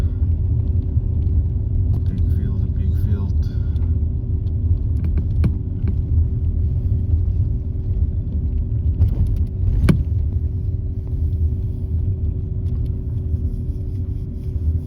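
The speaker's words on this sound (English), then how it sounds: "Driving through Heideveld right now." A car driving through the streets of Heideveld at night, heard from inside as a steady low engine and road rumble. A few faint rattles and clicks come through the constant drone, and no one speaks.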